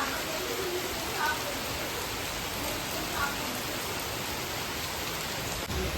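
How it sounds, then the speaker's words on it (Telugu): Heavy rain falls steadily in a dense, even hiss of drops on surfaces, constant and close throughout with no pauses. "ఫుల్ వర్షం పడుతుంది"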